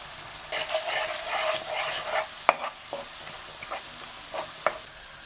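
Onion softens gently in oil in a pan for a sausage fatta, a soft sizzle under repeated scraping and tapping strokes of a spoon against the pan, close and uneven, with no talking.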